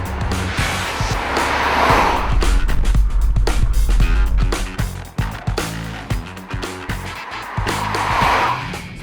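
A BMW 320d diesel saloon being driven, with a loud engine note rising and falling through acceleration alongside road and tyre noise, close and continuous throughout.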